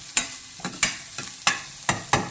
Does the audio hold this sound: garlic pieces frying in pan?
yes